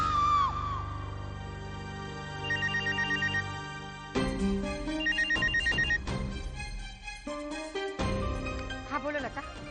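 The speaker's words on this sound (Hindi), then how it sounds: "करण बेटा, इतनी रात गए फोन किया?" A telephone ringtone sounds repeatedly late at night in a Hindi TV drama scene. It rings in a steady electronic pattern, loud and close, layered over dramatic background music.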